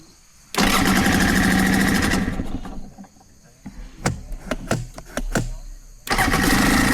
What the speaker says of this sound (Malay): Start motor ni.